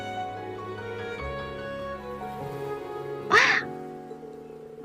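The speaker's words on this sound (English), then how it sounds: "they're actually seagulls." A seagull from the video game Trails of Cold Steel III gives a single brief, fairly loud squawking call partway through, rising over a soft, steady game music backdrop.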